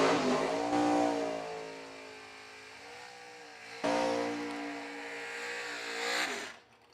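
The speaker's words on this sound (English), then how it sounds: "our next pairing brings up door car versus dragster" At a drag strip, a door car and a dragster race side by side, engines revving hard and loud in two rising, wailing pulls, then fading as the cars pass.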